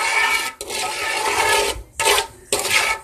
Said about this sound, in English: So I'm gonna mix all that in real good.